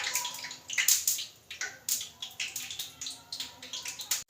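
Batter-dipped potato slices for aloo pakora frying in cooking oil in a frying pan: close, crackling sizzle with rapid irregular pops and spits in repeated bursts, alone and with no talk.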